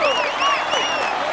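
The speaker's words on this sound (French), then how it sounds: "vous pouvez l'applaudir bien fort" Roadside crowd applauding and cheering the polka-dot jersey holder after stage 10 of the 2016 Tour de France. The noise is busy and sustained, and rising and falling whistle-like tones and voices run through the clapping.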